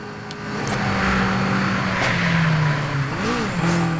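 A car engine revs in a street racing video game, a continuous mid-level drone with rising and falling pitch, one brief squeal near the end.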